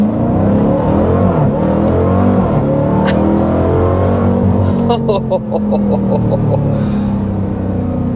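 A 2025 Dodge Durango Hellcat accelerating hard in launch mode with traction control off, a loud, sustained engine roar that climbs in pitch, heard from inside the cabin, with a brief electronic chime partway through.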